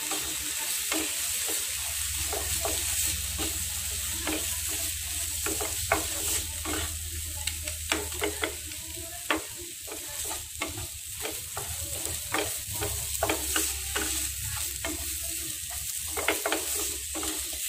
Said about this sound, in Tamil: நான் வந்து ட்ரையாக ட்ரை ரோஸ்ட்டை வறுத்து பொரிச்சு மாதிரி வறுத்துட்டேன்.